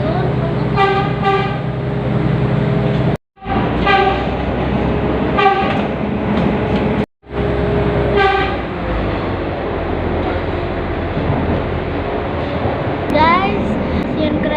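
The KA Cut Meutia passenger train sounds its horn in repeated loud, sustained toots as it nears a station in Aceh, Indonesia, with continuous rumbling rail noise underneath and two brief dropouts.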